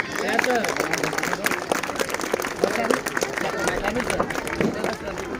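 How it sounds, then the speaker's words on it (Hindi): An audience at a school annual program claps to welcome a group of young girls to the stage, giving steady, moderately loud applause mixed with crowd chatter and voices. "जोरदार तालियों से स्वागत करते हैं ज़ैनब और सादिया के ग्रुप का"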